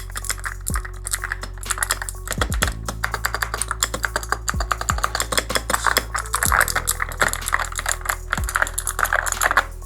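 Rapid typing on a mechanical keyboard with brown switches close up, with a steady stream of clacking keystrokes and occasional heavier key thuds.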